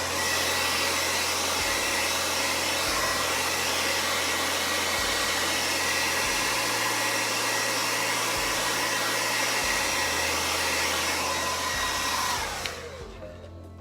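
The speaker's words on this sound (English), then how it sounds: "Gonna grab our hair dryer, a quick blast once again, just to make sure that's all dry." A hair dryer blows steadily at close range, a loud continuous whoosh that shuts off near the end.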